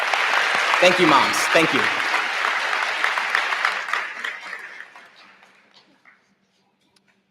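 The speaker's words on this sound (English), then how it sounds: "let's give a round of applause to all moms" Audience applause at a college commencement ceremony for the School of Liberal Arts, honoring all mothers: a loud, dense sustained clapping that thins out and fades to silence after about six seconds, with a speaker's voice over it.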